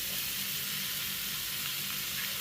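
Blended cauliflower sizzling in a pan as it is fried and stirred, a continuous dense hiss close up, steady and unbroken for a few seconds.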